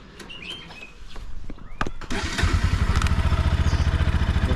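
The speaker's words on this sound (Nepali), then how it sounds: "जस्तै यो बाइकको साउन्ड छ नि" A Bajaj Pulsar NS200 motorcycle freshly rebuilt, its engine starting up after a few clatters and settling into a loud, close, steady rhythmic idle, with birds chirping faintly in the background.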